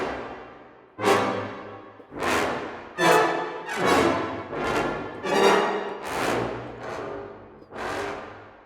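A CineBrass full brass ensemble plays a series of about eight punchy hits and scoops, each a loud attack that swells and decays before the next, evenly spaced and heard alone.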